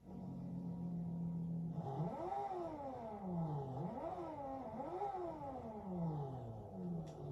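An RB26 car engine in Forza Horizon 2 revs repeatedly, pitch climbing and dropping in waves over a steady idle, synthetic and smooth.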